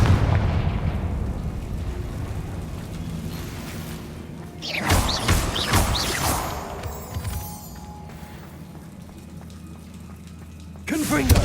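A Confringo fire spell blasts in Hogwarts Legacy, a loud whooshing burst at the midpoint that trails off into game ambience, with a second sharp burst right at the end.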